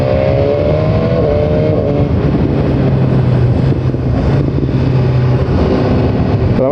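A 2017 BMW S1000R motorcycle ridden on a highway, its engine droning loudly and steadily under heavy wind rush, with pitch shifts as the revs change.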